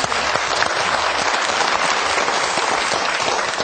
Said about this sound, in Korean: 이럴 때 박수 한번 주셔야 될 것 같아요.